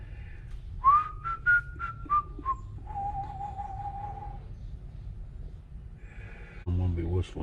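A person whistles a short bright tune of rising and held notes, then one long steady tone, close and fairly loud over low background rumble from a string trimmer repair bench, with a brief burst of noise at the end.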